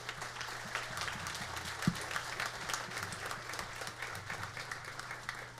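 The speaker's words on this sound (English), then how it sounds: "Let's give a round of applause for the band directors." Distant, fairly quiet applause from a crowd at a county school band festival honouring the band directors, steady clapping spread across the hall with a low background hum.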